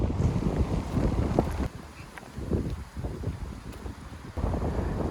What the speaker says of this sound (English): It's so windy, I won't be able to do a lot of talking by the look of it.